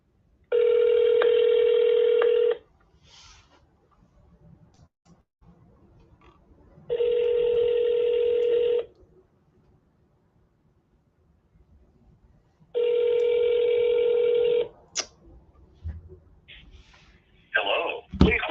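A phone call struggling to connect: three long, evenly spaced electronic tones, each about two seconds, separated by quiet gaps, followed by faint shuffling and brief handling noises at the end.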